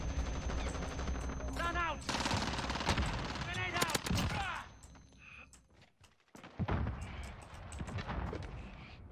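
A Gold Fennec submachine gun fires rapid automatic bursts in Call of Duty, loud and dense with game effects layered over it. There is a brief lull before the firing resumes.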